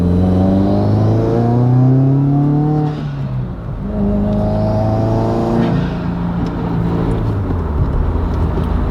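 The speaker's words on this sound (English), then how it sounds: "Alright, quick acceleration." A Subaru WRX accelerating hard, close and loud, its engine note sweeping upward through two long pulls with a brief dip between them, ending in a rougher, fading rumble.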